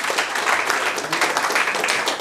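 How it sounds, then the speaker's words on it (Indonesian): A church congregation claps hands in a steady, dense burst of applause from many people, loud and close, with a voice faintly audible beneath. "Anda kayak anak sekolah minggu disuruh tepuk tangan, baru tepuk tangan."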